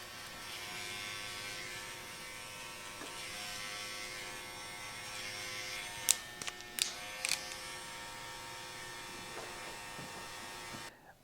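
Electric hair clippers tapering a full beard at a barber's, a faint steady buzz running throughout with a few sharp clicks and taps midway.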